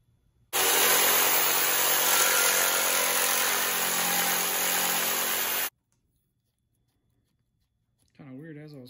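A loud power tool whines steadily for about five seconds as it cuts through plastic, then cuts off abruptly, followed by silence and then a voice speaking.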